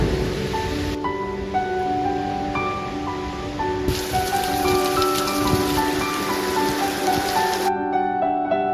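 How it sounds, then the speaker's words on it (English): Heavy rain pouring during a summer storm, a dense steady hiss of drops on surfaces under soft music, with no talking. "when it storms, it really storms"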